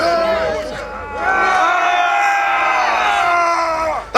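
A crowd of Scots re-enactors at a Bannockburn battle re-enactment roars a sustained battle cry, many voices close and loud, swelling after a brief dip and holding to the end.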